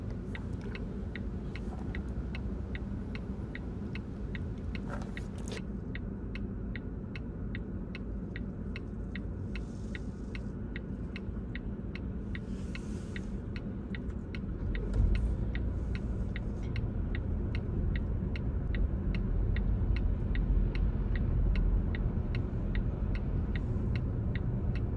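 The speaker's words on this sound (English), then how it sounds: "maneuver your vehicle slowly while continuously indicating the left indicator" Left turn indicator of a car ticking steadily at traffic lights in Sweden, a regular click repeating about twice a second over a low engine and road rumble that swells slightly partway through.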